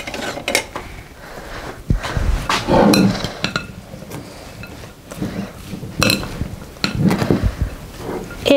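Chopped fennel, tomato and cucumber salad being tossed in a bowl, with irregular clinks and scrapes of utensils against the dish and soft shuffling of the vegetables.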